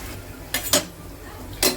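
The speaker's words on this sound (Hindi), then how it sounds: "अब चलिए इसमें डाल देते हैं अपने बैगन।" Eggplant tipped into fried onions in a home-kitchen pan makes a few sharp clatters, two close together and one near the end, over a low steady background hiss.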